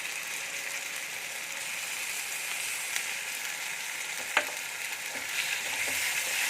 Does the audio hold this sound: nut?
yes